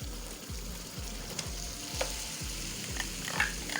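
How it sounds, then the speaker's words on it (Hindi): Green chillies and chana dal sizzle in a pan of hot oil. A dense frying crackle sits under a steady rhythm of low stirring thumps about twice a second. "और उसके बाद हम डाल देंगे सब्ज़ मिर्चें, और साथ ही हम लोग ऐड कर देंगे इसमें चने की दाल"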